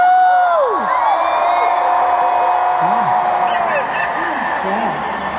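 A large concert crowd screaming and whooping at a pop show, loud, sustained cheering with rising and falling shrieks layered over a swelling roar.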